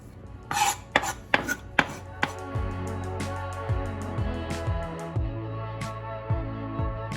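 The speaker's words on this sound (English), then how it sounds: "Fine chopped. Fresh parsley." Fresh parsley being finely chopped on a board, a quick burst of sharp knife taps followed by a steady run of softer rhythmic chops and rocking cuts, close and clear.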